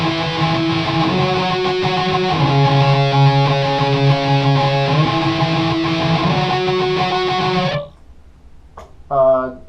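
A dirty, distorted guitar part from a song plays steadily for several seconds, then cuts off abruptly, and a voice starts talking.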